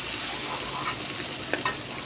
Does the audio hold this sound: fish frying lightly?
yes